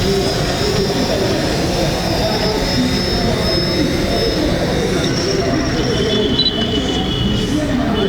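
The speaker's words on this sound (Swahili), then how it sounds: "narudi ili tuweze kuiweka salama drone yetu na kuizima" A small camera drone flies back in to land outdoors. Its steady high-pitched rotor whine sits over loud, constant broadband wind and motor rush close to the microphone.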